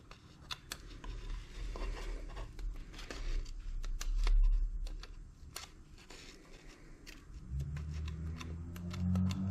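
Quiet, crisp snips and clicks of scissors cutting between layers of material for a wreath, irregular and close, with soft rustling and a low rumble near the end.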